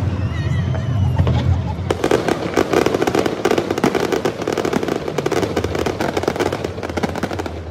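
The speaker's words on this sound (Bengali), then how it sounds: "আজকে ফায়ার ওয়ার্কস দেখতেছেন, এখন শেষের দিক, জোরে ছাড়বে আর কি" Fireworks crackle and bang in a loud, dense finale at night, with rapid overlapping bursts that pile up continuously after a quieter, rumbling opening.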